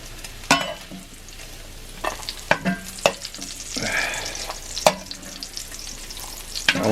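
Bacon frying in a cast iron skillet at a camp breakfast, a steady close sizzle and crackle broken by scrapes and clanks of a utensil stirring and moving the strips around.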